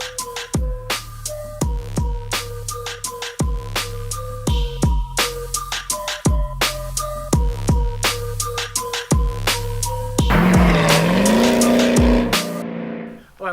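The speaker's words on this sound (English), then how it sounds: "This TorqStorm Centrifugal Supercharger kit is a bolt-on kit that can add in excess of 200 horsepower to a General Motors V8 engine." A TorqStorm centrifugal-supercharged 2010 Chevrolet Camaro SS V8 drives with repeated rhythmic bursts of engine and tire noise, then a sustained rising squeal of tires near the end, loud and close with no talking.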